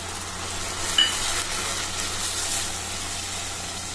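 Soaked moong dal and chana dal stir-fried in a pan for a raw coconut curry, giving a steady, moderate sizzle with soft stirring scrapes throughout and no voices.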